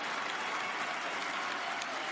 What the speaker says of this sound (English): gets a hand from this Rutgers crowd